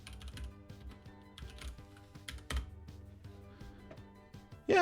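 Typing on a computer keyboard at home: irregular quick runs of clicky keystrokes, near and moderately loud, with brief pauses and a louder burst at the end, no talking.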